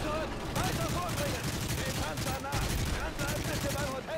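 Sustained gunfire from Call of Duty Modern Warfare 3 in a Berlin street battle, dense overlapping bursts and rattling automatic fire running continuously throughout, with people talking over it.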